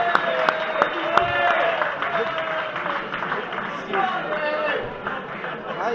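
Scattered applause from a crowd at an outdoor tournament trophy ceremony, moderate and steady, with sharp nearby claps standing out early on and chatter and movement mixed in throughout.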